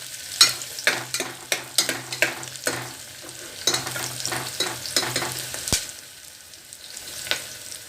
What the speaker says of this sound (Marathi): जास्त लाल पण नाही करायचा कांदा.